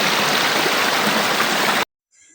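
Clear river stream rushing over big rocks in a mountain setting, a loud steady broadband wash of flowing water close by that cuts off abruptly near the end, with no talk over it.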